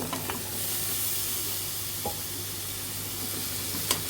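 Drumsticks (moringa pods) hiss softly in a pan after frying mustard seeds, a quiet continuous sizzle broken by a few sharp scrapes and clicks of stirring.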